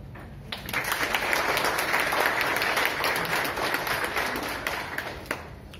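An audience at a women's wellness workshop gives a sustained round of applause, steady dense clapping filling the room for several seconds before tapering slightly.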